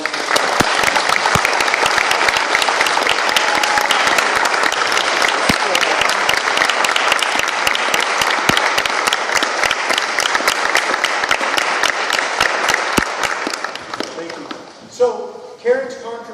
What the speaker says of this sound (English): If we could give those veterans a round of applause.